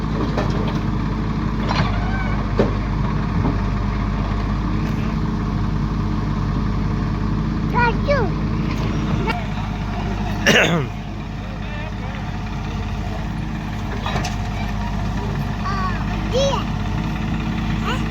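A tractor stands on firm ground during village cleanup work, its engine idling in a steady, low, continuous rumble close by, with people talking over it.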